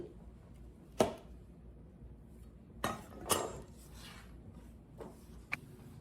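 A knife chops vegetables for salsa on a cutting board using a claw grip, giving a few sharp, sparse knocks and clinks with quiet gaps between them, close and fairly faint.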